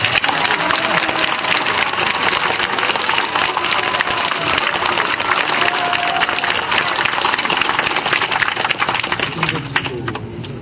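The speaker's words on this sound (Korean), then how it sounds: "박수 한번 보내주세요." Loud, sustained audience applause at a political welcome event in Andong, dense clapping filling the whole stretch and tapering slightly at the end.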